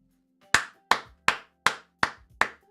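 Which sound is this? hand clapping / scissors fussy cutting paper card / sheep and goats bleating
hand clapping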